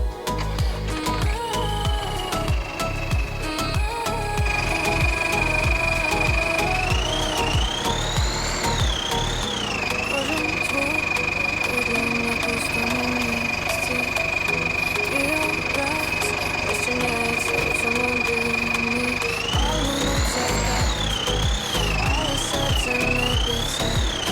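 Seed drill machinery running in Farming Simulator 19 makes a loud, steady mechanical drone with a rising whine on start-up, pitch shifts as the engine revs, and a sustained hum held between them.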